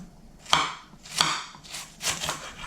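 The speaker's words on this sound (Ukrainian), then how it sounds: "В першу чергу нашинкуємо капусточку." Cabbage being shredded with a knife on a board for a vegetable salad, four crisp slicing chops spaced roughly evenly apart, close and clear with quiet pauses between.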